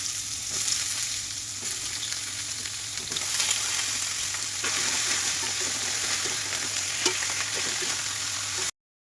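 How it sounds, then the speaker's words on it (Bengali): Pumpkin bori frying together with bottle gourd and potato pieces in a pan, giving a steady, dense sizzle and crackle that holds evenly for about nine seconds before cutting off, with no talking. "কুমড়ো বড়িগুলো দিয়ে দেব এবং সব কিছু একসাথে একটু ভেজে নেব।"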